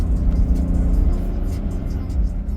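A BMW 535d Gran Turismo F07 diesel engine pulls strongly under acceleration, a steady deep rumble heard from inside the car while someone talks over it.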